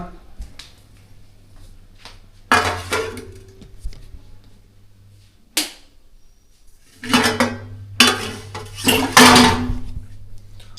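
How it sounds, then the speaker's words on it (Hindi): Dishes, pots and utensils being handled and washed at home, with short clattering bursts and clinks in clusters between quieter stretches, close by and moderately loud. "अब इनको जो है बर्तनों को धोने के लिए रख दूं मैं"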